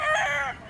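A rooster, one of the chickens kept for sale, gives a single loud, close crow lasting about half a second, with no talk.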